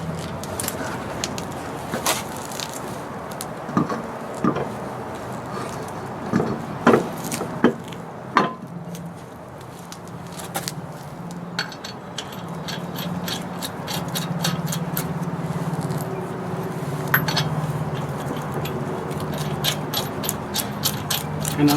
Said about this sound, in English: So now I'm going to put the wheel on it.